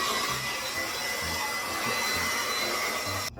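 A hair dryer with a diffuser attachment runs continuously while drying type 4 hair after a stretched wash and go, a steady, fairly loud airy roar with a slight low rumble throughout.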